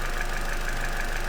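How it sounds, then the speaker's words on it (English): Car engine idling steadily at close range, a continuous even hum with a faint rhythmic pulse and no voices. "staring at a running engine"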